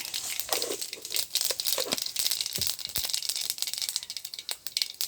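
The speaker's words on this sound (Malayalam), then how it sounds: "കടുക് പൊട്ടിക്കഴിഞ്ഞു" Mustard seeds crackle and pop in hot oil at the start of a squid curry, a dense run of sharp, close crackles and snaps that keeps going steadily with no talk.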